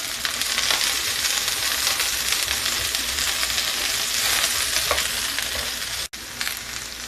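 Onions and cloves frying in a pan over medium heat give off a steady, loud, even sizzle that drops out briefly near the end.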